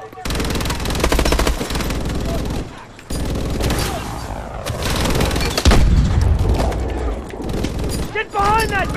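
Heavy automatic gunfire from an armored turret in the Call of Duty: Advanced Warfare campaign mission 'Traffic', loud sustained bursts and booms across the whole stretch with a short gap, mixed with shouting voices.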